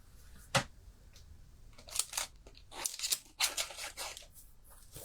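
Scissors snip a small piece off a handmade patchwork greeting card in a few short, crisp cuts with papery rustling between them, close and fairly quiet.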